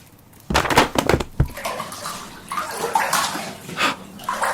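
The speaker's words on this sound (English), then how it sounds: "Startled, Basil jumped out of the bath like a jack-in-a-box" Water sloshes and splashes in a filled bathtub, close and fairly loud, with a burst of agitated movement followed by softer rolling swirls and drips.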